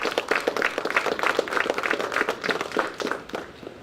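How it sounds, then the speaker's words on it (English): An audience gives a round of applause at an evening ceremony, dense continuous clapping from many hands filling the space, fairly close and even, with no speech over it. "I believe we should give him a round of applause."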